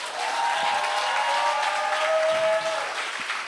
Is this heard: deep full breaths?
no